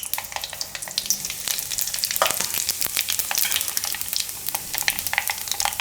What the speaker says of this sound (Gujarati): હવે તેલ ગરમ થઈ ગયું છે તો એમાં આપણે નાખશું રાઈ